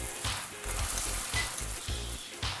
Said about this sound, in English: This is going to go into the hot oil.